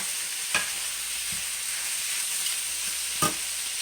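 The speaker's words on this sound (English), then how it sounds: "Give it a good stir." Rice being stirred in a hot pan for chicken fried rice: a steady close sizzle runs throughout, with two sharp scraping strokes of the utensil against the pan.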